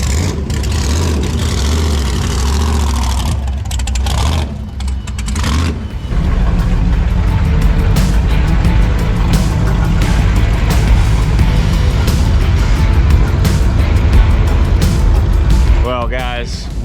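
Loud car engine at an auto show event revving and rumbling steadily throughout, with crowd chatter and voices underneath.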